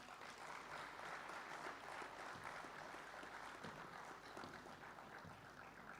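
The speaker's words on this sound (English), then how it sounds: "Let's have a big round of applause." Applause from a conference audience for a cadet being honoured, a faint, distant patter of many hands clapping in a large hall, steady throughout with a few sharper claps standing out.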